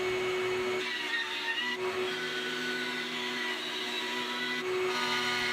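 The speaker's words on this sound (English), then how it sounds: "And it's back to the bandsaw to finish cutting this piece out." Bandsaw cutting a piece of spalted maple for an acoustic guitar end wedge, a steady loud motor whine and blade hum with slight shifts in load, continuous and close throughout.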